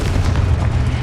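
A Confringo blasting spell explodes in Hogwarts Legacy, a loud, close, rumbling boom that fills about a second without speech.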